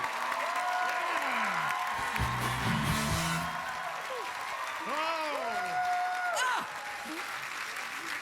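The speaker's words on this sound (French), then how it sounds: "On les applaudit!" Studio audience applause on the Quebec TV show Ce soir tout est permis, sustained clapping with cheers and whoops while excited voices shout and talk over it, then dropping off near the end.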